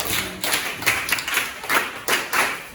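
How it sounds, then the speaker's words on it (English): A classroom of pupils claps together in quick, uneven bursts of applause, close and fairly loud, with no talking over it. "Let's clap for ourselves."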